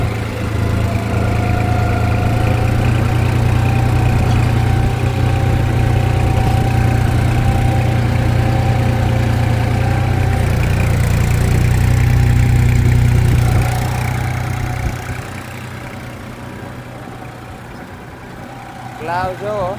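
A New Holland 5510 4x4 tractor in first gear pulls a plough through sticky field soil, giving a steady, loud, low diesel drone that runs continuously and eases off slightly near the end.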